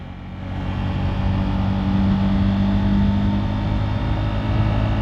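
Steady engine drone and road noise from a motorcycle riding along a busy main road with other traffic around, a continuous close rumble with a faint steady hum throughout.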